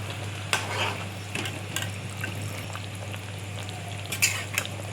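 Pabda fish curry with eggplant simmers in a pot over a low flame, giving a steady soft bubbling hiss with a low hum beneath and a few sharp clinks from utensils.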